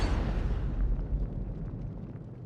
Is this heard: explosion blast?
yes